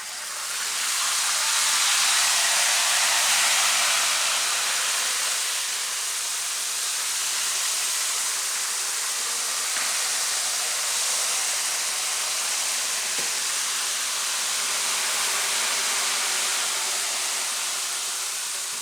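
Steam hissing from a pan of sweet potato chips after water is added, a loud broad wash of hiss that swells early then settles into a steady rushing noise, with a couple of faint clicks and no voices.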